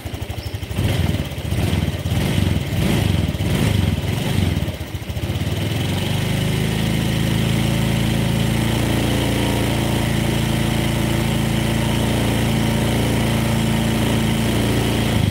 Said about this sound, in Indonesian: kalau gasnya ditarik seperti ini